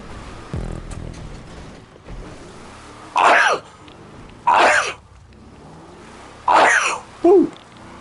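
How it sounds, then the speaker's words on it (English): Four sharp, loud sneezes burst out in succession over a low background hum, each a brief explosive gasp and blast, the last two coming close together. "those sneezes are rough"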